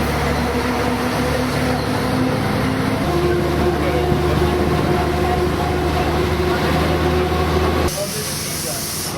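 A Czech train calling at Mikulovice station on a single-track line, with a steady low rumble and hum and a faint hiss that drop away near the end.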